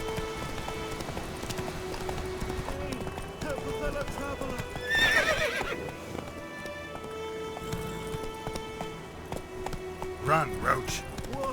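Roach the horse from The Witcher 3 gallops in a quick clip-clop rhythm, with a whinny partway through and voices talking over the hoofbeats.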